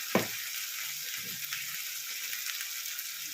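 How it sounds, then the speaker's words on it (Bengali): Onions sizzle steadily in hot oil in a pan, a soft continuous frying hiss with a few light scraping stirs, close and alone without talk. "পেঁয়াজটা ভালো করে কষিয়ে নিচ্ছি।"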